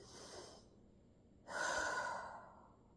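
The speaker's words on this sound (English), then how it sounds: "It feels better when you're doing the belly breathing." Slow belly breathing by someone lying on the floor: a close, airy breath fades out, then after a short pause a stronger, longer breath rises and gradually trails off, with no talking.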